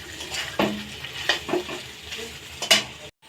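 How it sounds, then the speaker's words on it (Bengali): Chicken masala being stir-fried in a pan, a spatula scraping and stirring in several distinct strokes over a low sizzle, close and fairly loud, with no talking. "চিকেনটা ভালো করে কষানো হয় নাই, ভালো করে কষে নেব।"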